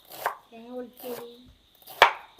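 A coconut is broken open with three sharp, loud cracking blows spaced about a second apart, and a brief voiced sound falls between the first two strikes.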